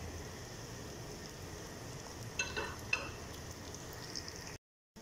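Spiced meat being stirred in a hot pan, a faint steady sizzle with a couple of soft scraping knocks from the spoon, then silence at the end.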